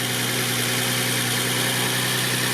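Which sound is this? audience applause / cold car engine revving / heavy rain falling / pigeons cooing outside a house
cold car engine revving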